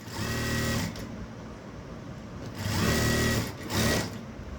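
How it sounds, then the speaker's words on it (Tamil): A sewing machine stitches a blouse in short motorized bursts, running for about a second, pausing, then two more close, steady runs with a whirring hum. "வச்சுட்டு நேராக தைச்சிடுவேன்"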